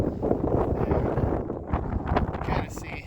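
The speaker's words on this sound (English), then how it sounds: "See, it's a little windy" Wind gusts across a hiking trail on the Pacific Crest Trail near Laguna, roaring and buffeting the microphone in rough, uneven waves, close and fairly loud throughout.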